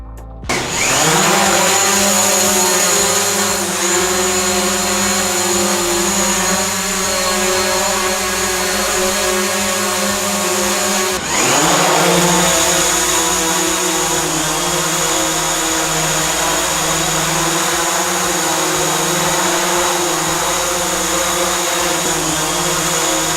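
Two DJI Mavic Pro drones fitted with low-noise propellers hover close by, a loud steady whine with layered tones, briefly dipping and surging midway before settling back into the constant hum.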